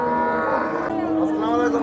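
At a rural livestock market where Friesian and Jersey dairy cows are sold, a cow lets out one loud, drawn-out moo close by, filling the whole moment.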